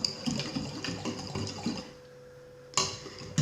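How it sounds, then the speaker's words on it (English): Stirring pumpkin pie filling in a bowl, a busy run of soft scraping and clinking utensil sounds that stops, then a couple of sharp knocks close by. "I'm really stirring this up"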